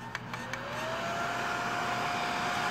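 Battery-powered jet fan running on 18650 lithium cells, spinning up after a few light clicks into a loud, steady high-pitched whoosh of blown air with a rising whine, close by and alone.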